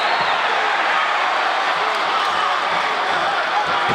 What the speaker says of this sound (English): The crowd loving it here in San Jose